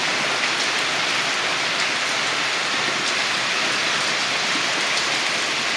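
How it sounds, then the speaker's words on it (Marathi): Heavy rain pours over a home garden and a tarpaulin-covered vehicle, a dense, even, continuous hiss with no pauses and no voices. "आता पावसाची तीव्रता अजून वाढली"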